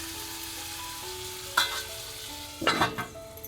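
Onion and tomato sauté in a pan with a mild continuous sizzle, broken by two louder bursts of stirring or scraping, while a faint steady hum runs underneath.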